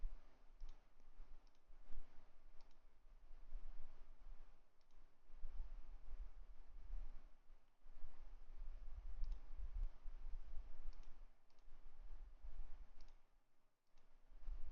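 Computer mouse clicks while working in Ansys Fluent simulation software, a scattered run of small clicks over a steady low background hum, with no talking.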